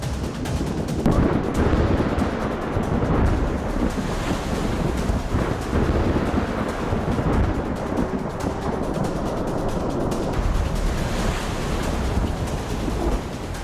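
Cyclone Yaas hits the Odisha and West Bengal coast with a continuous loud roar of gale-force wind and churning surf, and gusts buffet the microphone throughout.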